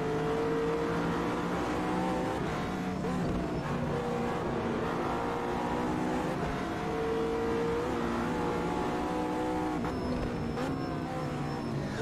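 Race cars in a sim racing game battle around the Nürburgring Nordschleife, engines droning and shifting pitch as they rev and change gear, a continuous mechanical whine mixed with game sound.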